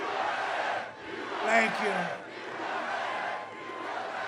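A large campaign rally crowd in Janesville, Wisconsin cheers and roars steadily in a big space, swelling in the middle, while a man briefly thanks them over the noise.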